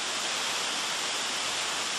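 Cathedral Falls in West Virginia, a waterfall dropping over 60 feet from overhanging stair-step ledges, heard as a steady, loud, broadband roar of cascading water with no variation or voices.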